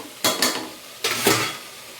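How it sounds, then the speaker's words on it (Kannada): Tomatoes and vegetables frying in oil in a pan, heard as two bursts of stirring and sizzling about a second apart, close and moderately loud, fading between strokes. "ಈಗ ಟೊಮೊಟೊ ಹಾಕ್ಕೊತೀನಿ ಎಣ್ಣೆಯಲ್ಲಿ ಬೆಂದಿದೆ ತರಕಾರಿ"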